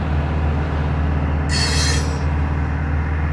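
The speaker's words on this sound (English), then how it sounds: "Right now you can hear all the brakes are trying to make sound" Train brakes squealing heard from inside a moving train with the window open, a high shrill screech rising over a steady low rail rumble for about a second, then easing off.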